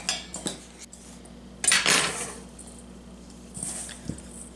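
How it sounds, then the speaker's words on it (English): Two butter knives cut cold butter into sugar and flour in a bowl, producing sharp metallic clinks and scrapes in short clusters, with one louder rattling burst midway. "I'm just going to use 2 butter knives and start cutting it in"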